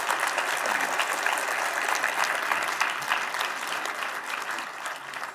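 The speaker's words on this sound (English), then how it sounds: "Please applaud them if you don't mind." Sustained audience applause fills a conference plenary hall for the board's introduction, a dense steady wash of many hands clapping at even loudness throughout.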